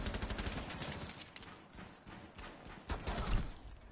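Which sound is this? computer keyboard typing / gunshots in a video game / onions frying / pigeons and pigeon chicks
gunshots in a video game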